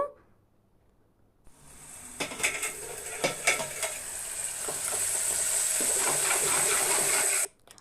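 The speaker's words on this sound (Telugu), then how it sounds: "మనం ముందే కట్ చేసి పెట్టుకున్న ఉల్లిపాయలు అవి ఫ్రై చేసుకుంటాను" Chopped onions sizzle and spit in hot oil in a pot with a bay leaf and a piece of cinnamon, starting after a brief quiet and building into a steady, close, loud frying hiss with occasional stirring clatter.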